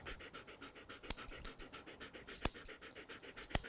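A poodle pants quickly and steadily in the heat during a grooming session, with soft regular breaths close by and a few sharper clicks.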